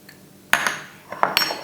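Basil, oregano and thyme are stirred together in a dish, giving a few sharp utensil clinks against the dish and a short scrape, close and brief with no talking.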